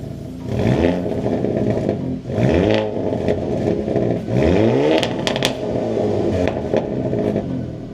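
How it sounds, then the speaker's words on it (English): A Hyundai Elantra's factory exhaust revs repeatedly, engine rising and falling in several loud bursts over a steady rumbling idle, close and unaccompanied by voices. "you know exactly how this exhaust sounds on the Elantra and from the factory"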